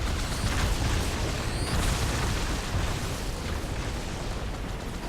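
Grenades explode against a tank in a Halo game, a continuous, rumbling wall of blasts and debris, loud and dense with no pause or voices.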